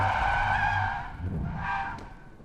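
Tires of a 2022 Toyota Aygo X Cross squeal and skid during a moose-test swerve on efficiency-focused tires, a loud sustained screech that fades briefly and returns with a second squeal.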